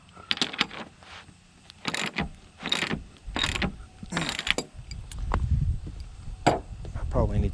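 A ratchet wrench tightens half-inch bolts on the posts of a composite deck sub-structure, producing several short, close bursts of rapid clicking separated by brief pauses, with faint background murmur.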